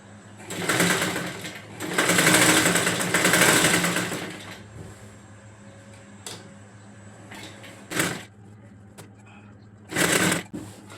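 A sewing machine whirs in several bursts of stitching on a saree petticoat, a long run early on and shorter spurts later, separated by quiet pauses with faint background noise.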